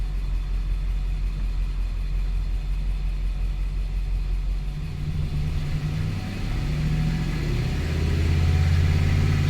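Car engine held steady at 2,000 rpm during a throttle test, a continuous low droning rumble close by that deepens and grows slightly louder near the end, with no talking.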